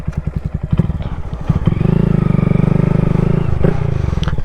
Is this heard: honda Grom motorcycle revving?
yes